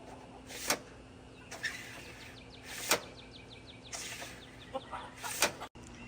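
Chickens cluck softly nearby in scattered bursts, with occasional louder squawks over a quiet background hum.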